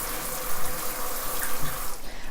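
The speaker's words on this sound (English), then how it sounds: "So I'm gonna go ahead and turn on the bathtub and the shower. Just so you can see, there is water coming out" Water pours steadily from a bathtub tap and shower, a loud, continuous broadband rush and splash heard close and alone.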